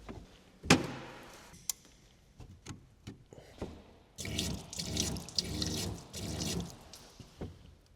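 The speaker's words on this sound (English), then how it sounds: "I believe this water is actually coming in underneath everything here" Water seeps and drips beneath installed fixtures, starting with a few sharp isolated drips and knocks and building into a steadier trickle and splashing that runs for several seconds, quiet and close with no talk.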